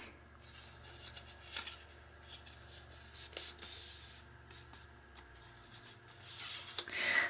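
Scored paper pieces for a handmade mini album are folded and creased by hand, making a series of close scraping and rubbing strokes at an uneven pace.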